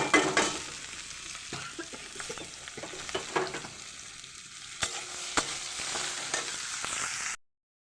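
Potatoes and green chilies frying with curry leaves in a pan, a steady close sizzle with scraping stir strokes and clinks throughout, no talk.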